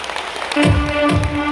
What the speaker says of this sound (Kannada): ಹೊಡಿಬೋದಾ ಜೋರಾಗಿ ಒಂದು ಚಪ್ಪಾಳೆ?